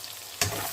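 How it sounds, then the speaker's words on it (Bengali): Sea bass fries in a covered frying pan with a soft, steady sizzle that jumps to a louder burst partway through this very short moment. "এই যে ফ্রাই করাটা ঢেকে দিচ্ছি"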